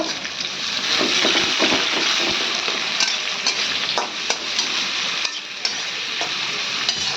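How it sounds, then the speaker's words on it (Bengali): Pangas fish curry with onions is stirred in a hot pan: a loud, continuous sizzle with frequent spatula scrapes and clicks throughout, and no talking. "এবার ভালো করে নাড়াচাড়া করে নেব"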